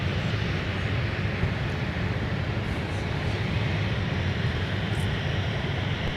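A United Airlines Boeing 737 in Star Alliance livery departs in winter at MSP airport, its engines making a steady, broadband jet roar at moderate distance that holds evenly throughout.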